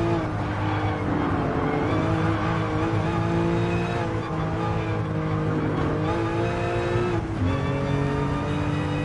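A race car engine in Gran Turismo Sport, droning loud and steady with rising and falling revs and several gear shifts, no voices over it.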